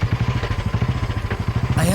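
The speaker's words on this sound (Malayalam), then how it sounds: "സാർ, ഇപ്പൊ ബുള്ളറ്റിന്റെ സൗണ്ട് കേട്ടു." A Royal Enfield Bullet motorcycle engine thumps in a fast, even, pulsing beat near the listener, loud and steady through the short stretch, with a voice briefly present.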